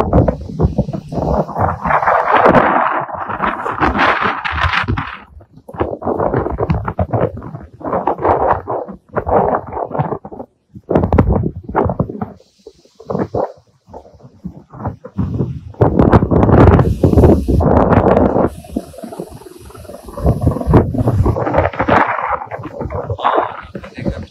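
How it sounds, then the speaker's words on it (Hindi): Strong wind blows outdoors in New York near the World Trade Center, loud gusty rumble and buffeting across the mic nearly throughout, dipping briefly before surging again with trees and street ambience. "देखिए कितनी जबरदस्त हवा चल रही है।"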